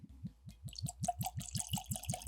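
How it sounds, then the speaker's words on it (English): Liquid glugs out of a bottle in a steady, rapid rhythm of low gurgling pulses, close by and moderately quiet. "let's pour some of this out and let it start breathing"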